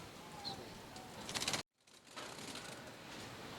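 Pied doves in a large breeding setup of paired birds, with soft cooing and faint chirps, a brief flutter, then a sudden cut to near silence before quiet ambient sound returns.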